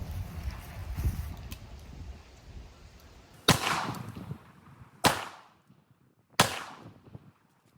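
Three sharp, loud reports from a .44 Magnum revolver with a 4-inch barrel firing 240-grain H110 loads, spaced about a second and a half apart, each decaying quickly after quiet background noise.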